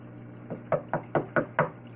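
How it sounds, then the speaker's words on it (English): Five sharp knocks on the glass of a fish tank holding a redtail catfish, evenly spaced and close, over a constant low hum of aquarium equipment. "Usually a couple knocks and she's up here."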